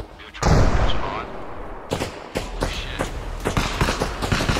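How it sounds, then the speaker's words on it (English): In the video game Arma Reforger, loud gunfire erupts close by. A heavy blast is followed by a series of sharp, echoing shots spaced irregularly over a few seconds. "Oh no, we've got actual gunshots here in the plant."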